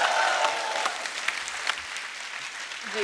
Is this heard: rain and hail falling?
no